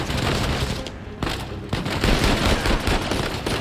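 Rapid bursts of video game gunfire from Uncharted 4 fill the scene, loud and close, with dense automatic volleys broken by brief pauses and sharp single shots.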